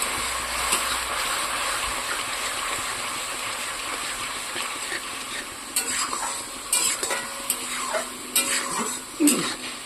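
Hot water poured into a pan of sugar for mango chutney hisses and sizzles steadily, with soft stirring scrapes and a few louder bubbling bursts near the end.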